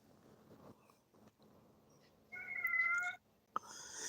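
A domestic cat meows once, a clear tonal cry in a quiet room, followed by a small knock and faint rustling noise.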